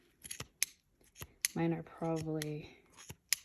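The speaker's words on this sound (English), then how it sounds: "And having sharp fabric scissors really helps" Sharp fabric scissors snipping through knitted yarn on a hand-knit hat, several crisp close cuts in an irregular rhythm, with a person talking between and over the snips.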